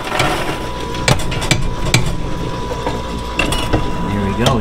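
A movie-theater popcorn machine motor runs as butter popcorn finishes, a steady mechanical whir with a faint tonal hum, punctuated by irregular sharp knocks and rattles from the kettle.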